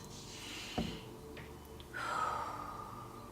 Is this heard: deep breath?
yes